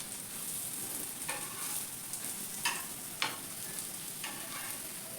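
Brinjal slices frying in oil on a tava over low flame, a soft steady sizzle with a few brief stirring scrapes, heard alone at moderate distance.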